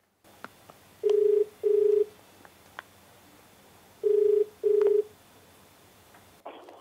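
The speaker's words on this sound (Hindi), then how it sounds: "तो दोस्तों इसी के साथ आइए बात करते हैं हमारे आज के आखिरी कॉलर से, पांडुरंग सहनाई जी से" Telephone ringback tone on a call-in television show as the line connects to a caller: two double rings, then a pause and another double ring, steady and clear over a faint hiss.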